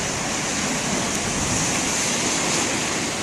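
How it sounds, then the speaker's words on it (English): Big ocean waves breaking steadily in a continuous roaring surf, with wind blowing across the microphone, loud and unbroken throughout with no voices. "there were some real big waves out there"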